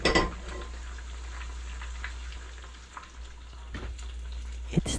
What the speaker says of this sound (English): So you have to get the oil super hot.